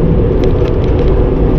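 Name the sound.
truck driving in rush hour traffic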